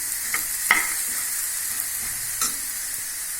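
Bitter gourd pieces roasting until crisp in a pan, a soft continuous hiss broken by a few sharp clicks and scrapes from stirring, heard alone without speech.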